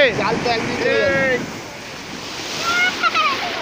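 Surf rolling and washing steadily on the shore at Puri beach as fishing boats come in, with wind rushing across, while voices call out faintly at the start and again near the end.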